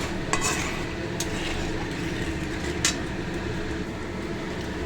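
Spice paste for bhola fish curry frying and being stirred in oil over high gas, giving a steady close sizzle and hiss with a few brief scraping clinks of the spoon against the pan, with no talking.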